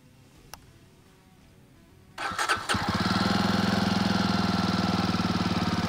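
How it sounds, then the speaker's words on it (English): A Jawa 42 Bobber motorcycle engine is started after a quiet pause, catching with a few sharp bursts and then settling into a loud, steady, rhythmic idle close to the listener. "That's at idle."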